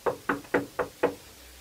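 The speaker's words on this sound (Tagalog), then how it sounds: "May kumakatok sa pintuan." Five sharp knocks on a door come in a steady, evenly spaced rhythm, close and distinct, with quiet between them and no voices.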